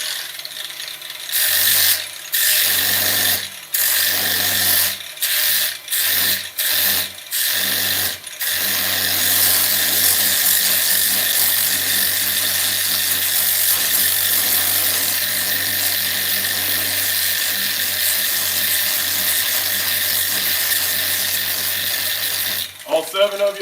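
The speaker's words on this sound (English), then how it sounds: "This is the Makita. It'll burn off the material." A Makita power tool grinding material off an axe handle, a loud high whining drone that starts in short stuttering bursts and then runs continuously before cutting off at the end.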